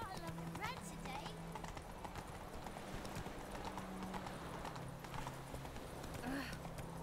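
Horse hooves clip-clop steadily on the ground in the video game Witcher 3, a continuous close trotting rhythm with a brief whinny and faint background ambience.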